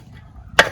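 A lid clapped onto a pot of eggs and potatoes boiling in water, one short, sharp knock at the end after a low steady background.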